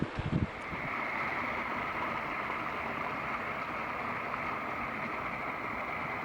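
A small mountain creek flows below Donohue Pass on the John Muir Trail, giving a steady, close rushing wash that holds level throughout with no voices.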